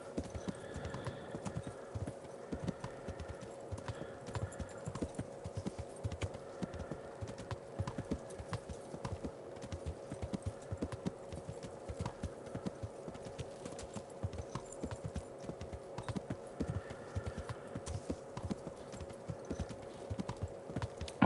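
Horse hooves clip-clop at a steady trotting rhythm in the medieval game Kingdom Come Deliverance, faint and continuous over a low steady hum, with an occasional neigh or whinny.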